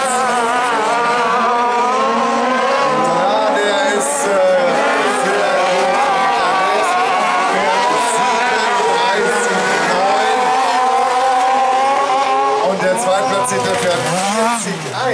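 Autocross race cars at Seelow roar past with rising and falling engine notes, loud and sustained, under a commentator's voice talking throughout.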